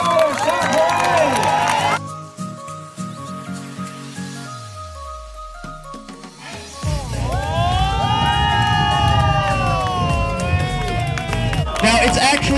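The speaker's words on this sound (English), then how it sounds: "Guys, this group deserves a clap or a shout." A festival crowd at the Edmonton Fringe Festival claps and cheers for a street performance group, with a burst of applause and shouts, a lull, then another swell of cheering and clapping that carries to the end.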